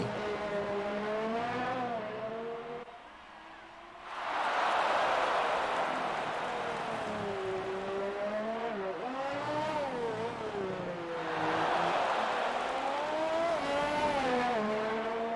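Race cars in an online sim racing game at the Russian GP, engines revving and shifting in rising and falling whines with tire noise as cars surge past, loud and continuous, no voices.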